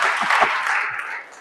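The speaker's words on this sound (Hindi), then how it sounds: "इसलिए अश्वत्थामा के नाम पर एक ताली बजाओ," Audience applause at a Hindi kavi sammelan poetry recital, a dense wash of clapping lasting about a second and a half before thinning out, with a few low thumps mixed in.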